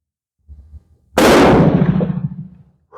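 A single sharp, loud gunshot from a Carcano carbine rifle cracks out and rings briefly into a decaying echo, preceded by faint handling noise.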